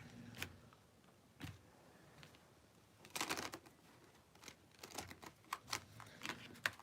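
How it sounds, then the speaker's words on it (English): Playing cards being shuffled in a few quick riffling bursts, with soft flicks and taps between them, close and fairly quiet. "this was harder to shuffle than I thought"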